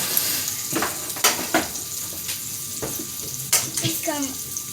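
Food sizzles and fries in a hot pan, a steady hiss broken by occasional utensil clinks and stirring, with a person talking quietly nearby.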